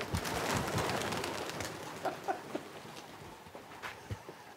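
Racing pigeons coo at a pigeon event in Margraten, several birds making soft overlapping throaty calls close by against a steady backdrop of chatter and noise.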